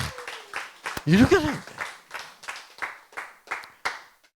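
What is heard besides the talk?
audience applause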